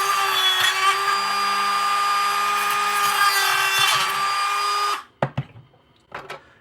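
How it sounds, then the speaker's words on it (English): A Dremel rotary tool whines steadily as it cuts through a plastic Nerf Sharpfire blaster part, a high continuous buzz for about five seconds that stops abruptly, followed by a few light clicks and taps. "you want to Dremel through one side of it and like break it in half"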